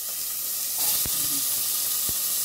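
Pumpkin and onion frying in about two spoons of oil, a steady close sizzle and hiss with a couple of sharp clicks, no talking.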